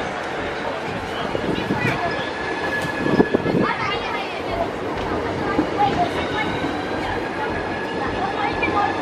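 A train rolls into Dover Priory station with rumbling wheels, metallic squeals and a steady mechanical drone, loud and close throughout, with people talking over the noise.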